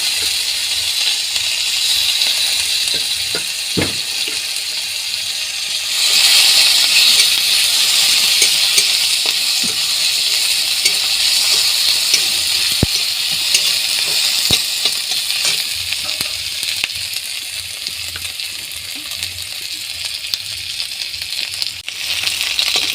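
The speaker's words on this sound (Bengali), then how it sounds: "পেঁয়াজটা আমার ভাজা ভাজা হয়ে গেছে" Onions frying in a pan for a home-cooked village dish, giving a steady close sizzle that swells louder partway through, with occasional stirring clicks and no talking.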